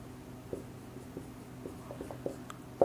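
Pen writing out a physics definition on paper or board: a run of short, irregular scratchy strokes and taps, close and fairly quiet, with no voice.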